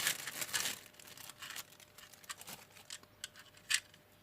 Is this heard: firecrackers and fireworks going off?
no